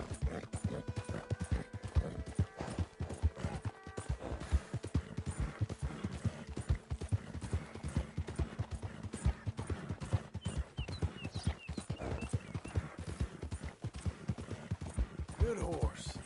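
Horse hooves clip-clop steadily in Red Dead Redemption 2, a close, continuous walking rhythm that runs the whole time, with someone speaking gently to the horse over it.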